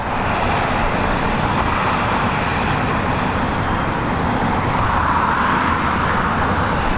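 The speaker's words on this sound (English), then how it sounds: "Aer Lingus to Malaga flying overhead here in Taller." An Aer Lingus airliner passes overhead near Dublin Airport, its broad jet engine roar loud and steady for the whole stretch, swelling slightly toward the end, with no voices.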